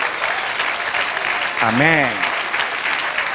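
Church congregation applauding after a sermon: steady broad clapping throughout, with a brief spoken word in the middle.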